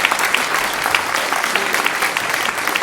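A crowd at a town mayor's end-of-term speech claps steadily and loudly in a dense, continuous round of applause with no pauses, the hall filled with overlapping hand claps.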